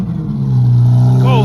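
A sports car engine at a cold start by a lake among Lamborghinis and Corvette C8s: a loud, close, steady low drone that swells briefly as revs rise, with talking over it.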